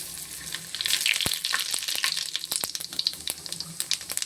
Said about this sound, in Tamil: இப்போ நம்ம கொஞ்சம் சின்ன சீரகம் போட்டுக்குவோம் சீரகம்